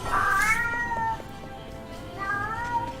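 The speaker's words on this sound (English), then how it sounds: "Sorry about my cat." A house cat meowing twice, two drawn-out complaining meows about two seconds apart, close and fairly loud over a quiet background.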